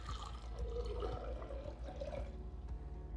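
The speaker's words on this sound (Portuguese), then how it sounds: "Eu coloco aqui no liquidificador 300 ml de água" 300 ml of water is poured into a blender jar for a hot dog dough batter, giving a close, gurgling splash and trickle of liquid that fades out over a few seconds.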